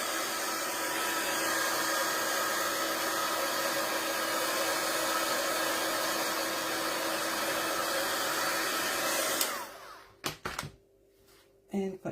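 A dryer blowing over wet ink on an art piece, a steady loud whooshing hum that runs for about nine seconds and then cuts off, followed by a few faint handling knocks.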